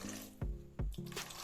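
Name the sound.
water poured into egg masala in pan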